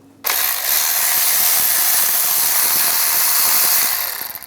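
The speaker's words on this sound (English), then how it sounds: "Then we're going to use an E10 socket and around the perimeter of the valve cover." An E10 socket on a ratchet backs out the valve cover screws of a 2003-2010 BMW X3. A steady run of rapid clicks begins abruptly and carries on close and loud for about four seconds.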